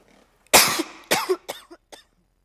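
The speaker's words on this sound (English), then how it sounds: "Excuse me, I'm going to cough." A woman coughs several times in close succession while giving a talk at a 2013 summit, starting with a loud burst and trailing off in shorter, fainter coughs.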